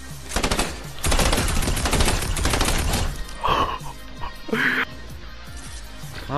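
Drum gun firing in a video game, rapid sustained bursts of automatic fire up front, then scattered shots and other game sounds with brief talk.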